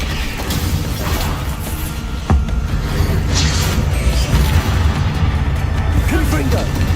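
Blasting explosions from the Confringo spell in Hogwarts Legacy combat: loud booms and crashing bursts over a dense, continuous battle din, with a sharp hit just after two seconds and a voice speaking partway through.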